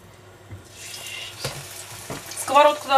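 A fresh bean omelette fries in a non-stick pan with a soft sizzle, broken by a few sharp clatters of a utensil and a brighter hiss near the end.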